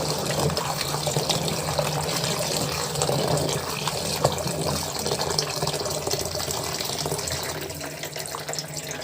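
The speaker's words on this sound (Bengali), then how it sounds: "তো সবজিগুলো আমি খুব সুন্দর করে ধুয়ে নিব।" Vegetables are washed under a running tap in a kitchen sink before cooking a fish curry with winter vegetables, a steady broadband gush of water continuing throughout with faint splashing and handling, no talking.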